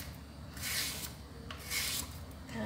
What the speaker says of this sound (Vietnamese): mình bào mỏng cái chuối này ra